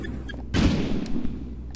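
A thrown bomb explodes in the video game Cobalt, giving one sudden dull boom followed by a brief rumbling decay, loud and close, with a few faint clicks before it.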